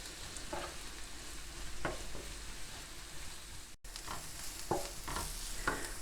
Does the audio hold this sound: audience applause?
no